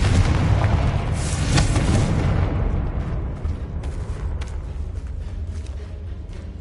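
A Confringo explosive spell from Hogwarts Legacy bursts with a loud, close boom that fades into a lower rumbling tail, with no voices over it.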